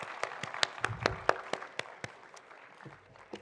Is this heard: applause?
yes